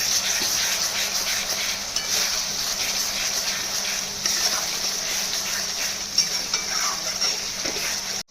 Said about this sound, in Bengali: পেঁয়াজ রসুনের সঙ্গে লঙ্কা বাটাটা ভালো করে কষে নিয়েছি